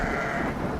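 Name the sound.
sheep bleating in a video game (The Black Grimoire: Cursebreaker)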